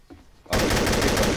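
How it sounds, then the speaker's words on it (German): Rapid automatic gunfire in the video game TTT bursts in loud and close after a quiet moment, shooting away a metal grate in a continuous stream of shots. "Ich schieße das Gitter weg"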